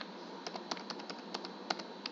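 Quick, light typing on a computer keyboard during a Python programming lesson, a steady run of soft close clicks with no talking.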